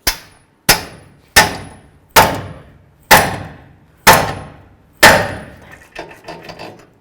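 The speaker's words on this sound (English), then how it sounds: "we're going to continue on with a pickle fork and a hammer" Seven sharp, evenly spaced hammer blows ring out against a pickle fork driven into a control arm ball joint on a 2008-16 Chrysler Town & Country, each a loud metallic crack decaying quickly, followed by softer rattling taps.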